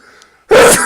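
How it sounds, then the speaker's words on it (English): A single loud, sudden human sneeze bursts out close to the microphone after a brief quiet intake of breath. "I may sneeze"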